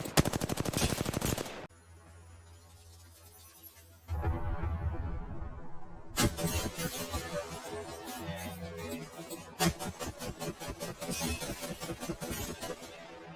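Rapid automatic carbine fire from the Diaz Biffle in Warzone rattles out in long, loud, tightly spaced bursts with short pauses between them, close and dominant.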